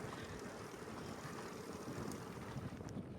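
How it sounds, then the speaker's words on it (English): Steady wind rushing past during a ride, a faint continuous broadband roar with slight buffeting, no voices. "It's getting windy."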